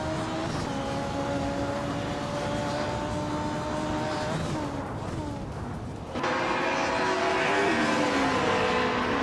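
Race cars including a 1994 Mercedes C180 DTM drone loudly through a continuous engine roar, pitch shifting as they pass, with a sharp jump in volume partway through.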